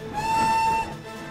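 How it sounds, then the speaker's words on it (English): A single shrill train whistle sounds for under a second, steady and piercing, then cuts off. "Then there was a shrill whistle"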